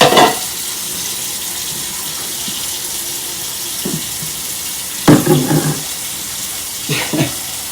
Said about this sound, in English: I'm going to fill this up and soak it so that I can clean it